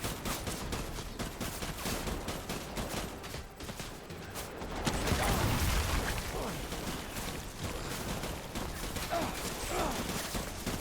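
Sustained video game gunfire, dense rapid volleys of shots rattling throughout, with a heavier burst of fire midway and no clear voices.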